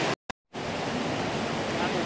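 A mountain river in Trabzon, Turkey, rushes in a steady broadband roar, close and loud, after a brief dropout at the start.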